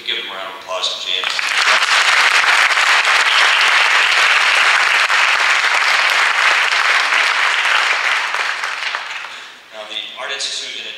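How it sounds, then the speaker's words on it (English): Audience applauding at a Congressional Art Competition reception, swelling quickly into loud, dense clapping that holds steady for several seconds, then fades, with a voice speaking briefly before and after. "If we could give them a round of applause"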